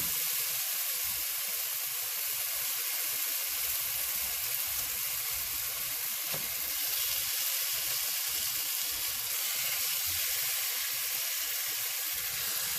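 Pork chops crammed into a pan fry with a steady, dense sizzle and hiss that holds evenly and close throughout, with no voice.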